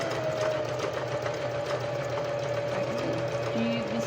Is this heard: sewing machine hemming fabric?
yes